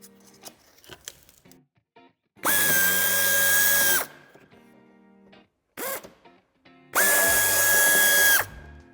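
Cordless power drill on a BMW X2 F39 rear bumper, driving out a screw in two loud, steady whirring bursts of about a second and a half each, with a short blip between them and faint handling clicks around them.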